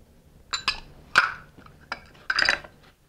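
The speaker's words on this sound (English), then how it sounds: "Mix the rock salt and sugar together." Rock salt and sugar being mixed together for a salmon gravlax marinade, with several short clinks and scrapes of a utensil against a bowl, spaced irregularly and close by, with no talking.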